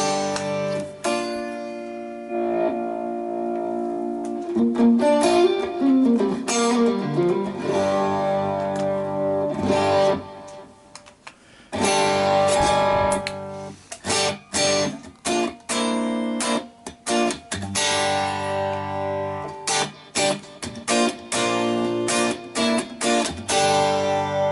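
An electric guitar plays through a Line 6 Pod Express using delay, reverb and drive: sustained chords and single notes first, then choppy, stop-start strummed bursts, loud and close, with no talking.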